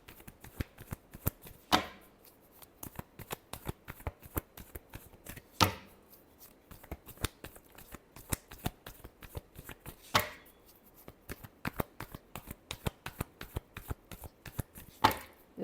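A deck of tarot cards is shuffled repeatedly at close range, a dense run of crisp riffling flutters with a few sharper slaps standing out, no voice over it.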